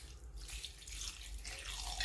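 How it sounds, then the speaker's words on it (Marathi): Water pours in a steady, splashy stream into beetroot sherbet for a couple of seconds, close and fairly loud, with no talking. "थोडंसं आपण याच्यात हे पाणी घालत आहोत"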